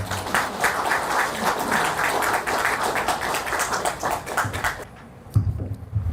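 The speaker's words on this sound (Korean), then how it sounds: "큰 박수로 이창구 교수님을 모시겠습니다" An audience at an academic conference on national religions applauds warmly to welcome Professor Lee Chang-gu for his keynote, a dense sustained round of clapping that fades out near the end, followed by a few brief knocks.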